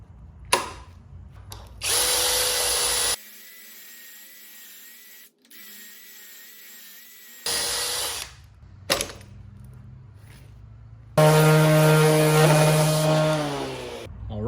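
Power drill boring pocket holes through a Massca twin pocket hole jig, with a 3/4-inch setting: several loud, high-pitched whining bursts of the spinning bit, separated by quieter pauses and a steady background hum, the last burst winding down in pitch.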